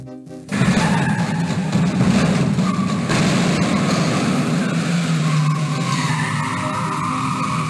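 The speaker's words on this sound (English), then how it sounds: "We just have to follow after the red Nazi car and try and hit it enough times to make it stop." A car chase against a red Nazi car in the Indiana Jones and the Fate of Atlantis game: a loud, continuous engine roar with screeching, skidding tires running unbroken from start to finish, with no talking.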